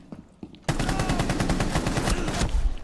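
In Rainbow Six Siege, a couple of faint shots come first, and then sustained rapid automatic gunfire breaks out, loud and close, for about two seconds.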